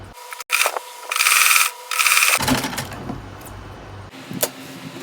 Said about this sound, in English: So I'm going to be sewing here. I'm going to run a straight stitch here.